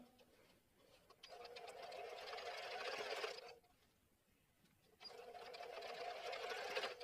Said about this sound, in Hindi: अपना सिलाई पूरा करें